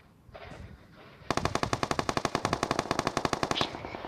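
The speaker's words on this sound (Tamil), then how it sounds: "புல்லட் வருது. இந்த சவுண்ட் வேறு" Video game gunfire: a fast, evenly spaced automatic burst of loud close shots begins after a quieter opening and rattles on steadily to the end.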